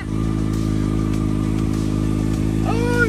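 Kawasaki Ninja ZX6R motorcycle engine idling steadily in neutral, a loud close rumble with strong low harmonics held throughout, a brief higher whine rising near the end.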